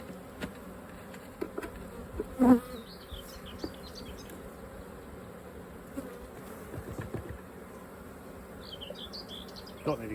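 Honey bees buzz steadily while a hive is being split, a continuous close insect drone with scattered knocks and handling clicks throughout.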